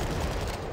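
Rapid, dense fusillade of strafing gunfire in a WWII strategy game set in Warsaw, a short, loud, continuous crackle of overlapping shots with no voices over it.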